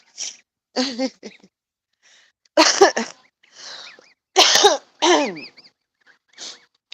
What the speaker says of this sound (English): Excuse the nasty cough.